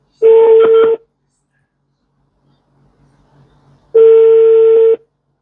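Telephone tones while calling someone back: two steady, buzzing tone bursts, each about a second long, separated by a few seconds of near silence, clear and close with no talking.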